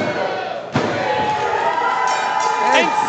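A pro wrestler's frog splash at a Texas Contenders Series show crashes onto the ring with one sharp, heavy slam, followed by a roaring crowd and an excited commentator calling the action.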